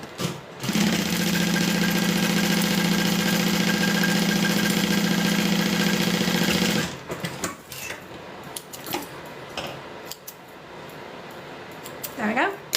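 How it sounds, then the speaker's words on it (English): A sewing machine hums loudly and evenly for about six seconds as fabric pieces are stitched together, then cuts off, followed by quieter fabric handling and light knocks. "And then sew those together."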